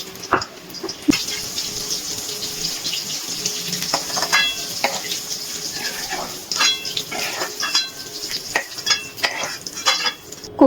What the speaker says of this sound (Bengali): একইভাবে প্রত্যেকটা কোপ্তা ভেজে নেবো